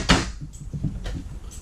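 A kitchen drawer or cabinet in a 2019 Thor Aria 4000 diesel pusher RV opens with a sharp knock followed by softer sliding and clicking thuds, close and quiet with no talk.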